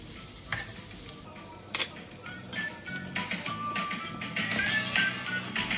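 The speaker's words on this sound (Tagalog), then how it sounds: "ginigisa na natin" Chicken breast sautés in a pan with a gentle, growing sizzle and occasional stirring scrapes and clinks, fairly quiet and close, with no talking.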